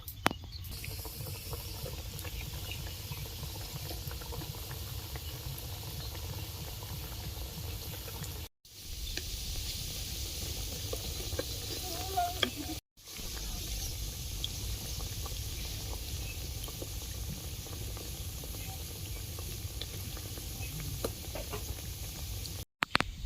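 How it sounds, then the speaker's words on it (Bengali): Biscuits deep-frying in medium-hot oil, a steady bubbling hiss that runs continuously for the whole stretch, briefly cut by two short gaps, with no voices over it. "তেলটা গরম হয়ে গেছে এবার মিডিয়াম আছে বিস্কুটগুলো ভেজে নিব"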